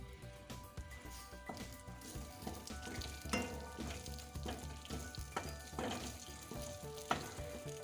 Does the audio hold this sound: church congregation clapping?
no